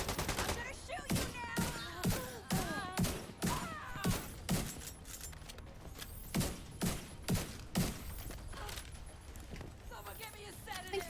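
Rapid bursts of video game gunfire crack out in clusters through the clip, loud and sharp, with a voice talking over the shooting.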